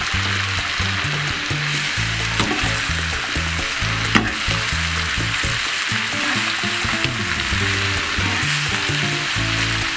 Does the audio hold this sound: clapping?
no